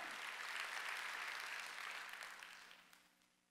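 A Korean church congregation at a Sunday worship service claps together, a broad steady burst that holds, then thins and fades away toward the end.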